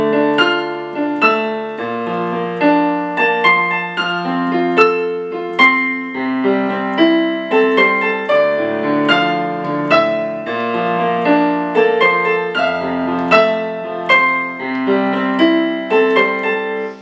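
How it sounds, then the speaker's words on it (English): Solo piano arrangement of a song, a right-hand melody over steady left-hand chords, played clearly and up close with a regular pulse throughout. "It's a piano solo arrangement, so it's got the melody in the right hand."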